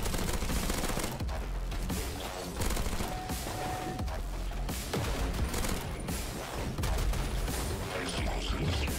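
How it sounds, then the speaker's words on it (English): A grenade launcher in a video game fires repeatedly with dense, rapid booming bursts that continue throughout amid other game noise, with no talk heard. "Grenade launcher."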